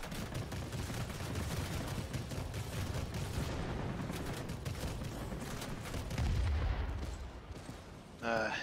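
Sustained anti-aircraft gunfire in the World of Warplanes combat flight game, a dense continuous barrage of rapid bursts and booms that swells near the end.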